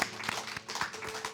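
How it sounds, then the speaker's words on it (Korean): A church congregation claps in praise during a Korean worship service, a loose rhythm of distinct hand claps of moderate loudness with no talking over it. "우리 하나님을 찬양하는 우리 박수 한번 다시 올려드리겠습니다"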